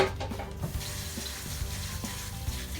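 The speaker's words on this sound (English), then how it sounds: "Rinse the soap off my hands here." A faucet runs into a sink as soap is rinsed off hands, a soft, steady stream of splashing water with light irregular spatters, close and quiet.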